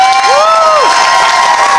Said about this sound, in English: can I just get one more big round of applause for everybody that entered today?